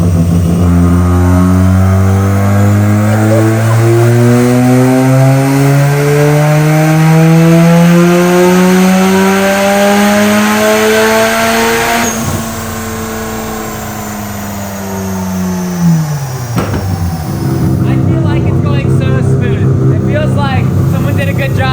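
A loud rotary engine in a rebuilt Mazda RX-7 revs steadily higher toward 7,000 RPM for several seconds, pitch climbing, then drops and sputters before settling into a rough idle, close up.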